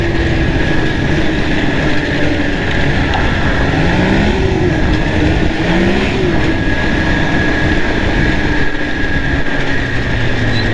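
Arctic Cat Thundercat snowmobile riding at about 70 mph on a trail, a loud constant engine roar with rushing wind and track noise, pitch wavering slightly as it holds speed.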